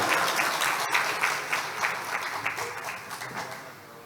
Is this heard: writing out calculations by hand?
no